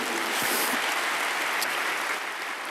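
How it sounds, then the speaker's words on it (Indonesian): A church congregation at an Easter service applauds, with dense, sustained clapping from a large crowd filling the room at steady loudness, tapering slightly near the end, with no talk over it. "Berikan tepuk tangan kita untuk Tuhan kita"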